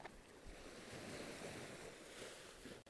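Ocean waves and wind at a lighthouse at sunset make a steady broad rush with gusty buffeting against the microphone, continuous and fairly loud throughout, with no voices.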